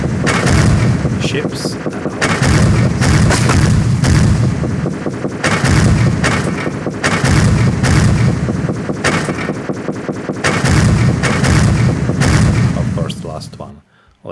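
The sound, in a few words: shooting and explosions in Godot 4 space shooter video game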